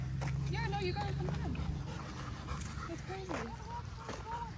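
A Rottweiler whimpers and whines in rising, tonal bursts with some panting, fairly close, over a steady low hum with people talking nearby.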